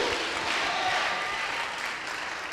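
Church congregation cheering and applauding for Jesus, a steady, dense wash of clapping and crowd noise that fills the whole moment without a break.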